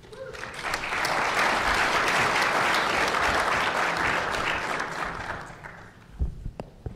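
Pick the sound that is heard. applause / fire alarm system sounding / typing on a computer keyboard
applause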